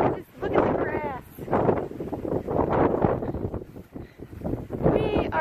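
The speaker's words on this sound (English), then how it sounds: "Can you hear this wind?" Strong wind blasts across a mountain top in loud, gusty waves, buffeting the microphone with roaring bursts that rise and fall continuously.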